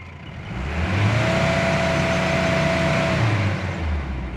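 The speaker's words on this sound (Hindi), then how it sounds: "ये गाड़ी स्टार्ट हो गई कंप्लीट और ये मैंने एक्सीलेटर फुल प्रेस कर दिया" A Mahindra Bolero CRDI diesel engine, recently fixed after a P1D87 fault and starting problem, revs steadily with the accelerator pressed fully, giving a loud, sustained close-up drone with a faint whine above it.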